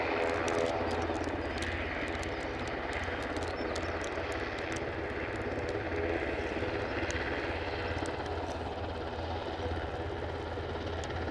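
A Loganair airplane at Aberdeen airport gives a continuous distant engine drone, a broad steady rumble heard from outdoors with faint wind and background noise.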